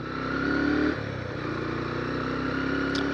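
A motorcycle ridden on a road on a cold morning, its engine a steady close drone with a slight dip in revs, no talk over it.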